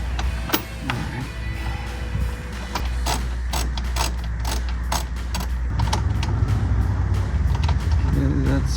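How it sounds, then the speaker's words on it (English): A ratchet with a 13 mm socket tightens aluminum radiator shroud bolts on a 2009-2018 RAM 1500, giving repeated close clicking bursts under a steady shop hum, with a voice talking in places. "let's get the 13 millimeter blade, and we will tighten up the shroud"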